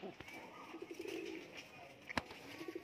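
Teddy pigeons coo in a loft, a few soft low-pitched cooing bursts repeating under faint background noise, with one sharp brief click partway through.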